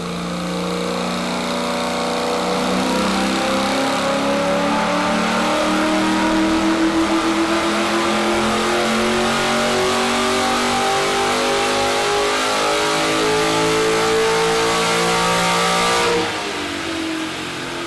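A powerful 369 cubic inch ex-supercar engine in a custom car revs up loudly, climbing steadily in pitch for over fifteen seconds before dropping back abruptly near the end.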